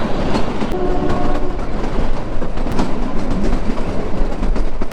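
A Kalka-Shimla toy train climbs uphill at dawn, its steady rumble and clattering wheels filling the scene up close, with a brief horn-like tone early on and continuous rhythmic rail clatter throughout.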